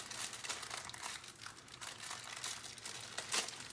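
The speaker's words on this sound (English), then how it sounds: "now I'm gonna cut the pastries" A knife cuts through crisp layered baklava pastry with soft, quiet crackling and crinkling that repeats steadily, close and dry, with no talking.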